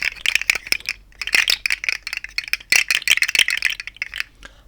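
A plastic slug fidget toy rattles and clicks in quick, busy bursts with short pauses between them, close and crisp, with no voices.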